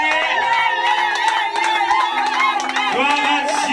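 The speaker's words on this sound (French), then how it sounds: "Voilà les acclamations" Cheering rises from a wedding congregation right after the vows, a lively crowd of many voices with shouts and high calls, some sounding like children, going on steadily near and loud.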